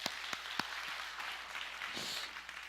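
Applause from a church congregation at a Sunday service, with a few sharp claps at the start swelling into steady, moderately loud clapping.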